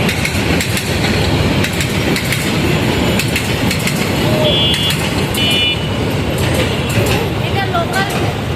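An intercity train rumbles past close by in Dhaka, wheels clattering steadily over the rails, with faint squeals and a few distant chirps over the continuous roar.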